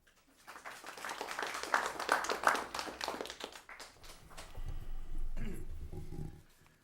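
A meeting audience at a League of Women Voters session on local waterfront revitalization claps for a speaker, a moderate burst of applause that swells and fades, followed by low rumbling room noise.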